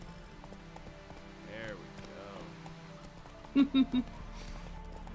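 Horse hooves clip-clop in a video game, with a quick run of three or four distinct hoof strikes near the end, heard under a person talking and faint game ambience.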